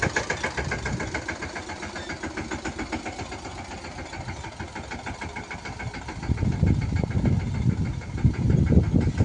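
A tractor engine idles steadily out in a farm field, its throb running low and even, then growing louder and heavier toward the end; no voices are heard.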